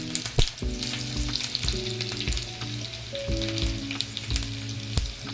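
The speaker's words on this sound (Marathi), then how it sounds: "तेलात पहिलं जिरं टाकले आपण लसूण सहा ते सात लसणीच्या पाकळ्या आपण चेचून घेतलेला" Cumin seeds and crushed garlic cloves fry in hot oil, giving a continuous sizzle with scattered spoon knocks against the pan and a faint tonal hum underneath.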